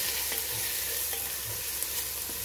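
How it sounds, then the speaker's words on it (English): Ginger garlic paste fries in a pan with a constant dense sizzling hiss, broken by a few faint stirring taps, close and steady throughout. "Cook this ginger and garlic paste properly till its raw taste is gone."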